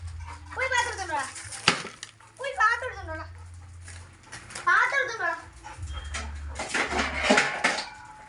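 Dishes and pots clatter as they are picked up in a home with a Labrador, giving sharp metallic knocks and scrapes between high dog whines and whimpers.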